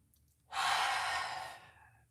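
One deep inhaled breath, a close, breathy rush lasting about a second that rises sharply and slowly tapers off into quiet.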